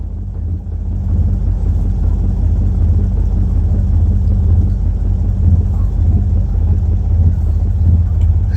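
A 1952 Chevy engine runs after a tune-up, a loud steady close-up low rumble that holds without a break and has no talk over it.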